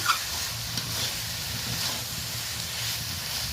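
Potato and eggplant with coriander powder are stirred in a hot pan, giving a steady, soft sizzle and hiss with faint scraping that runs close and even throughout.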